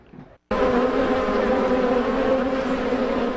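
A swarm of some 800 to 1,000 bees clustered on a big branch at a home in Clovis, buzzing loudly and steadily after a brief quieter start, a dense continuous drone close by.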